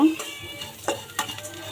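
Flattened rice (chira) seasoned with turmeric and chaat masala is stirred and fried in a pan, giving a steady scraping and light sizzle with a few sharper spatula knocks against the pan, close and moderately loud, with no talking.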